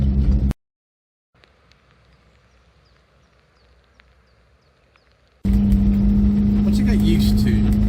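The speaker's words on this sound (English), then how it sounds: "It's a bit louder than a modern car, as you can hear" A 1969 classic car engine drones loudly and steadily from inside the cabin while driving, a short burst at the start, then near silence, then the sustained engine hum returns.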